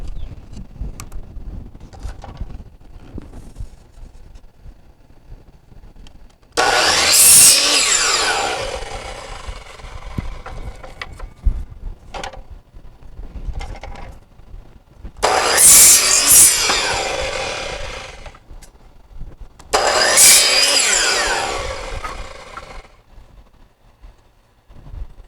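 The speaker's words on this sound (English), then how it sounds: "So we're just gonna take my 1x2s and cut them in 24-inch lengths for now." A power saw cuts 1x2 wooden boards into 24-inch lengths in three loud bursts of a few seconds each, with quieter handling noises and a low hum in between.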